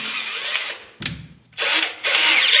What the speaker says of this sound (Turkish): Şimdi saklama kabının sadece üst kısmını deleceğim.